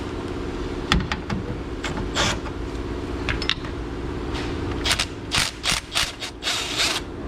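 Ratchet wrench on an extension loosening a hidden bolt while removing the compressor from a Subaru Forester, close and fairly loud: bursts of rapid clicking from the pawl, with several quick ratcheting strokes near the end and clanks of the tool between them.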